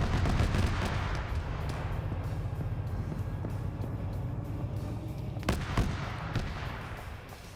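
Gunfire in the Arma video game targets a helicopter during a night player-versus-player match, a dense rattle of shots and distant booms over a constant rumbling background with a few sharper cracks near the end.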